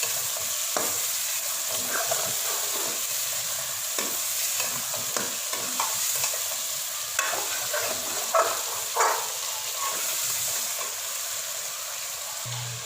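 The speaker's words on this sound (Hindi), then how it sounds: "इस तरह से हमारा चिकन अच्छी तरह गल भी जाएगा और भून भी जाएगा" Chicken being fried and stirred with ginger garlic paste in a pan for palak gosht, a steady close sizzle broken by repeated scraping stirs of a spoon; no talk.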